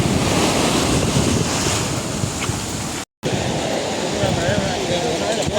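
Strong wind and surf wash over a fishermen's beach in a steady, loud roar, with wind buffeting the microphone throughout and a brief dropout midway.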